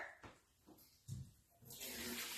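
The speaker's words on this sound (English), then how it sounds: "So I'm just going to drain the water here." Soaking water from warm-soaked pitted dates is drained off, splashing into a sink as a steady pour that swells and grows louder toward the end, after some brief handling knocks.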